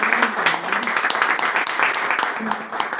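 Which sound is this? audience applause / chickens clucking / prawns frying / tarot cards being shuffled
audience applause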